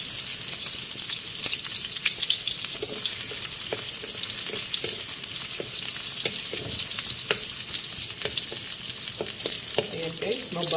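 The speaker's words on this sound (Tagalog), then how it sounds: "Guys, ayan guys, na-drop na natin yung ating garlic." Garlic drops into hot oil and fries with a steady, loud sizzle, scattered clicks and scrapes from stirring breaking through the continuous crackle; no talking.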